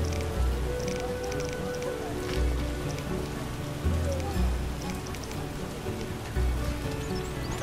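Steady rain falls in the Witcher video game, a soft even patter with scattered drips over a low background and occasional deeper thuds.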